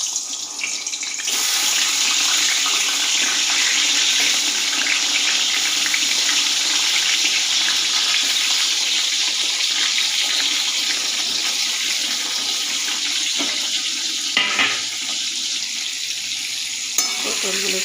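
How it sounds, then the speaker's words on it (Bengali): Pointed gourd pieces coated in salt and turmeric sizzle steadily in hot oil, a loud continuous frying hiss running throughout, with a few brief clinks of a utensil near the end. "তেল গরম হয়ে গেছে। এরপরে নুন হলুদ মাখানো পটলগুলো আস্তে আস্তে করে দিয়ে দেবো।"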